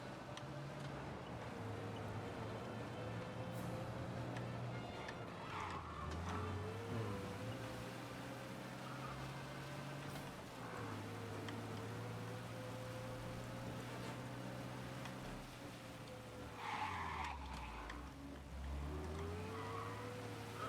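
A car races through city streets in a chase in the video game Mafia Definitive Edition, engine revving and droning steadily with occasional tire squeals, fairly faint throughout.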